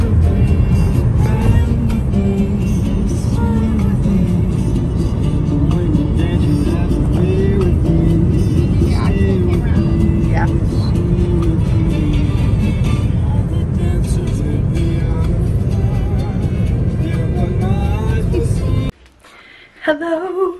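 Steady road noise and engine hum fill the cabin of a moving car for most of the stretch. The sound cuts out sharply near the end and then returns.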